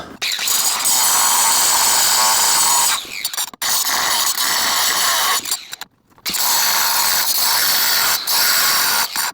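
A loud power tool with a cutting blade grinds through the plastic seat shroud of a semi truck in long, continuous bursts separated by brief pauses.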